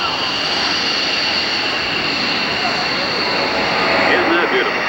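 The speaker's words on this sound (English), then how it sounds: "here he comes. High-speed pass, about 350 miles an hour" A jet from the Italian Air Force Frecce Tricolori display making a roughly 350 mph high-speed pass at an airshow, a loud sustained roar building slightly toward the end, with a commentator's voice over it.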